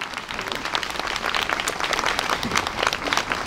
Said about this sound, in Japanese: 皆様改めまして倉手中学校和太鼓部の皆さんに大きな拍手をお送りいただきたいと思